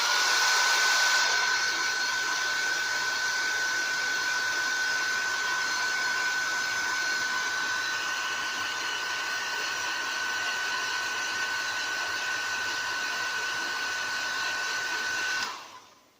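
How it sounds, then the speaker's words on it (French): A hair dryer blows continuously over masking liquid on a scale-model shipping container, a steady close whooshing hiss with a thin high whine, running unchanged for about fifteen seconds before cutting off. "juste le sèche-cheveux pour que ça sèche un peu plus rapidement"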